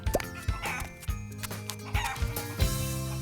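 Chickens cluck repeatedly while a rooster crows, a busy farmyard flock of domestic fowl raised for eggs and meat, with sharp bursts over a dense, tonal background.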